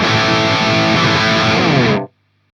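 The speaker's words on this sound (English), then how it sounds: "So it was the Syn20IR through a Marshall 2x12 cab with some Vintage 30 speakers in it." A distorted electric guitar plays through a Synergy Syn20IR with an SLO module into a vertical Marshall 2x12 cab loaded with Vintage 30 speakers. It gives a loud, dense, saturated sustained chord that cuts off sharply near the end.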